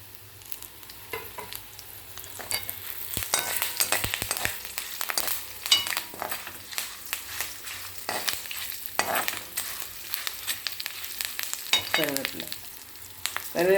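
Curry leaves sizzle and crackle in hot oil in a pan for pulikaichal, with repeated scraping stirs of a spoon and sharp spattering pops, close and fairly loud.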